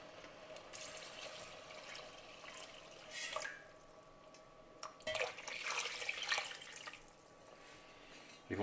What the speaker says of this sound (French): Et on va rajouter le bouillon de volaille ou bouillon de légumes, hein, si vous voulez faire quelque chose de végétarien.